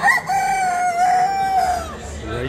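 At an agricultural fair in Brive-la-Gaillarde, France, a rooster lets out a single long, loud crow close by that holds steady before trailing off, with fairground background noise underneath.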